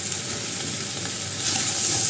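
Igado, a Filipino pork and liver dish, cooks in a pan over high heat with a steady, dense close sizzle that swells slightly louder toward the end, no voices.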